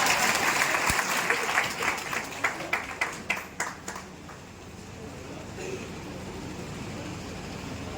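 A large crowd at a Banjara community convention in Hardoi applauds, with loud distinct claps in the first seconds that thin into a softer patter and then a fading murmur.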